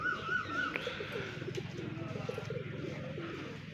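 Domestic pigeons pecking at grain and cooing, a low, soft, rhythmic burbling that repeats steadily, with a brief higher chirp near the start.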